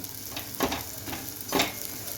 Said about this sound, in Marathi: धण्याची पावडर, गरम मसाला, हे पण छान असं परतून घ्यायचं आहे जरा मसाल्यामध्ये